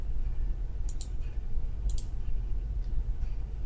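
A computer mouse gives two quick pairs of crisp clicks, close and fairly quiet, over a faint steady hum.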